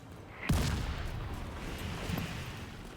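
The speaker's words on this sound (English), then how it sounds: "They can't have explosions like that, there's just no warning." A sudden explosion in The Division video game: a sharp, loud burst that gives way to a sustained, rumbling roar lasting several seconds, with no talking.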